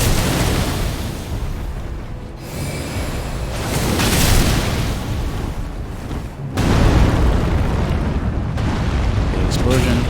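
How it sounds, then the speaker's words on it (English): A big in-game explosion in Elden Ring roars as a loud, sustained rumbling blast of noise, with a second heavier boom surging partway through. "Big explosion."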